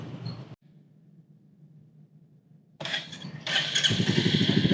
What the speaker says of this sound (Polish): Alan znowu na jeździe próbnej, ale tym razem w Royal Enfieldzie jesteśmy.